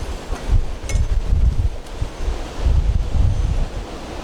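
Strong outdoor wind gusts buffet the microphone in a loud, rumbling roar that swells and eases in waves, with no talking.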